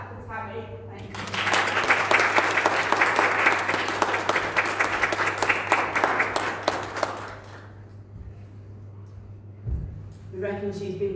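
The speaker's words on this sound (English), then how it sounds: "Big clap for Tammy." A church congregation claps for Tammy at a Sunday morning worship service, a dense burst of applause lasting about six seconds before fading, with talking heard before and after.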